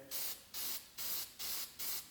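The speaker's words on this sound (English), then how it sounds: "and spray it, give it a nice little coat" A can of cyanoacrylate glue activator sprays in five even, hissing bursts, each about half a second long with short pauses between, close and steady.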